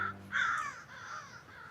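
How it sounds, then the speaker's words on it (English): Crows caw a few times outdoors on a cold day, loud harsh calls close by with fainter ones trailing after, no talking. "Birds are quirking everywhere"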